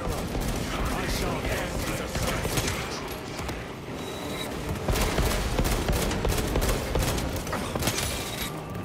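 Dense, sustained gunfire from Warhammer 40,000: Space Marine 2 as cultists are shot down, with rapid overlapping bursts and booms forming a loud, continuous barrage for the whole stretch.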